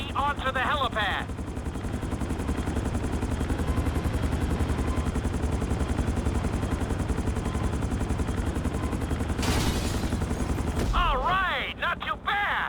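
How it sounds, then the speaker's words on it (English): A helicopter in the video game GTA 5 settles onto a helipad, its rotor beating loud and steady throughout, with game voice lines and sound effects rising near the end. "Bring the helicopter down gently onto the helipad."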